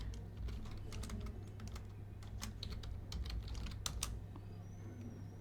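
Keys clatter in an irregular run of quick taps on a computer keyboard, fairly close and alone over a steady low hum.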